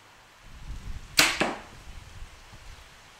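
An arrow looses from a PSE Citation 36 SE compound bow outdoors in light wind, a single sharp crack with a quick second snap, clear against quiet background.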